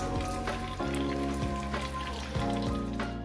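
Steady crackling sizzle of egg rolls frying in hot oil, dense and continuous, with occasional soft pops and bumps close by.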